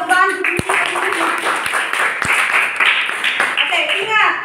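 A classroom group of students and a teacher clap together in a brief burst of applause, with voices talking over and around the clapping.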